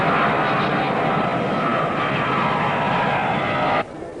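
An aircraft engine roars steadily at an airport at night, a loud, dense drone that holds without change and then cuts down sharply near the end.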